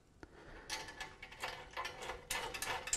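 Bolt and nylock nut being tightened on a Triton Workcentre bracket: a close, quiet series of ratcheting clicks and metallic turning sounds in short uneven bursts, no talking.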